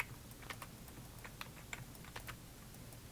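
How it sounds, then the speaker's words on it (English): Soft, quiet clicks of a computer keyboard, tapped sparsely and irregularly over a low background hum, with no voices. "So I hit C on my keyboard to get colors."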